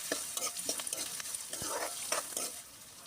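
Onions sauté in hot oil in a pan for a chickpea sundal gravy: a soft, quiet sizzle broken by light scraping stirs and occasional spoon taps.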